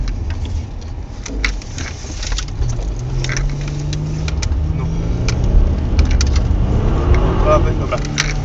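A car runs a slalom course and brakes during a driving skill trial in Szczecin, its engine rising and falling in pitch under a co-driver's shouted calls.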